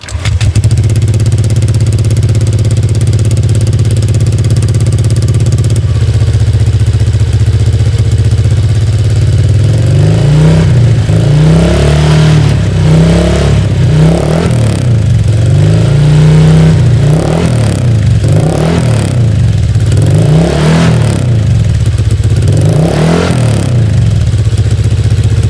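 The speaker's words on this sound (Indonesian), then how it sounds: "Dan sekarang saatnya kita mendengarkan gimana untuk suara knalpot K59 ku yang sekarang semakin nggak karuan." Honda Vario scooter fitted with a copy CMS K59 exhaust idles steadily, then revs in a series of sharp, loud blips with a slightly rough, growling note, heard up close and alone.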